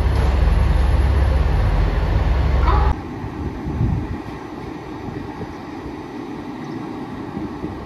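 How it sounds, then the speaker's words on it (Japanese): JR Shikoku Anpanman trolley train running near Marugame Station, a loud steady rumble that cuts abruptly to a quieter, lower rolling hum. "丸亀駅12時35分発アンパンマントロッコ列車1号琴平行き"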